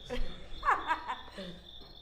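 A cricket chirping sound effect rings in a steady high trill throughout. A burst of laughter and chuckling rises over it partway through.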